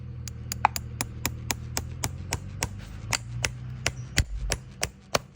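Steady metallic hammer blows drive nails into horseshoes while half shoeing a horse, about twenty sharp strikes in a regular rhythm, close and loud over a low background hum.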